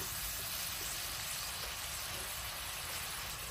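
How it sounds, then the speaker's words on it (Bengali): Spices frying and sizzling in a pan with halved green chillies for a prawn and bottle gourd curry, a steady close hiss without pause, no one speaking. "এখন মশলা থেকে ভালো করে আমি কষিয়ে নিব"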